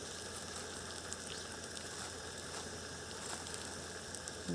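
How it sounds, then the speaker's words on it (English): Liver pieces sizzle steadily in a frying pan alongside bacon, a continuous close crackling hiss that runs the whole time with no talking. "what we want to do is pan fry the liver pieces"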